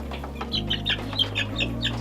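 Backyard chickens of a local breed cluck and chatter softly close by, a series of short bird calls over a steady low mechanical hum.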